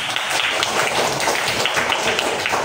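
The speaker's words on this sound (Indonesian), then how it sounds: "Boleh tepuk tangan dong." Classroom applause during an Islamic lesson on Quran surah Al-Hujurat: dense, continuous hand clapping from a group, steady and loud throughout with no talk.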